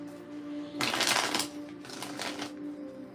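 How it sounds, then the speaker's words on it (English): A deck of tarot cards being shuffled during a card reading, two bursts of riffling close to the microphone over a faint steady hum. "Let's get a good shuffle in."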